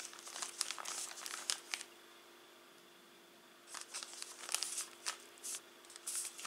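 Plastic packaging of Doctor Grain five-grain crispbread crinkles close by as it is handled and opened, in two busy bursts separated by a short quiet pause.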